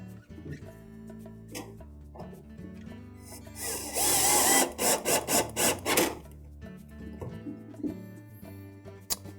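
A power driver whirs in a burst of short pulses while tightening screws on a Whirlpool washer tub support assembly, close up, with quieter handling clatter before and after.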